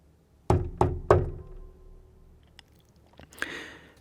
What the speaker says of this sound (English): Those were the knocks on the door of the theatre space.